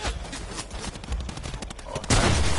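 Rapid video-game gunfire from a gun being tried out, dense bursts of shots running throughout at close range, swelling louder and denser near the end.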